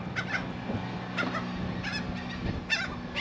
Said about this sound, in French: Elle attire les oiseaux en leur filant des bouts de frometon.